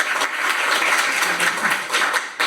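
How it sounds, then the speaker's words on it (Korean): An audience at an indoor policy forum applauds, with dense, steady clapping from many hands that continues evenly for a couple of seconds. "박수 부탁드리겠습니다."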